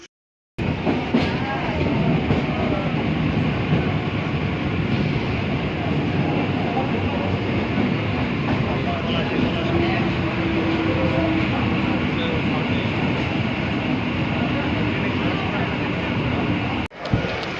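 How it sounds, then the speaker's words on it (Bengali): A passenger train bound for Palashi runs at speed, giving a steady, loud rumble and rattle from inside the carriage that holds for the whole stretch, then cuts off briefly near the end. "ট্রেন আমাদের দ্রুত গতিতে ছুটে চলেছে পলাশির উদ্দেশ্যে"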